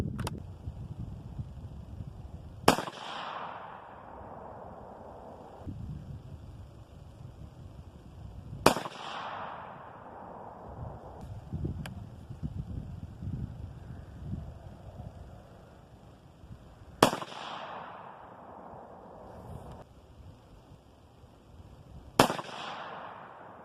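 Four loud, sharp .22-250 rifle shots fired with Varget powder loads at an outdoor range, spaced several seconds apart, each crack trailing a brief echo over steady wind rumble.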